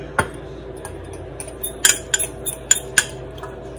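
A spoon clinks and taps against a bowl while dry seasonings for a pulled pork rub are mixed, giving scattered light clicks over a quiet background with no talking.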